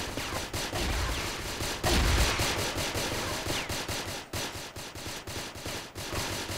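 Rapid rocket launcher and grenade fire in a first-person shooter video game, a dense continuous stream of shots and blasts crowding together at moderate loudness with no talk.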